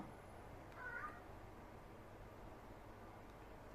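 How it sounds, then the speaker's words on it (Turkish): A house cat gives a single short meow, faint and a little distant, against quiet room noise. "Şu an kedim miyavlıyor"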